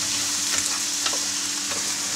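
Porcini mushrooms fry in a pan for a Carpathian mushroom soup, a steady close hiss of sizzling oil with a few faint scrapes of stirring.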